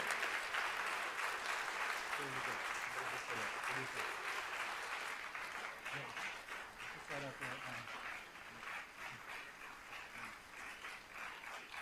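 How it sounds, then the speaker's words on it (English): An audience at an award ceremony for a philanthropy and service award gives sustained applause, with dense clapping that fills the room and slowly thins. Voices murmur under the clapping. "a round of applause for Herman Silverman, the 2015 winner of the"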